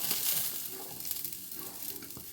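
Tender drumstick pods dropped into a pan of hot oil for chutney, a brief close sizzle and frying crackle with light stirring scrapes, no talking.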